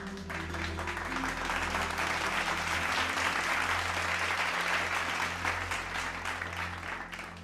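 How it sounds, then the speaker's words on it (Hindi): Steady applause from an audience honoring Urdu poet Nizam Rampuri, a dense wash of many hands clapping that holds at an even level for several seconds over a low hum. "इसके लिए तो निज़ाम रामपुरी जी का तालियों से इस्तकबाल किया जाना चाहिए।"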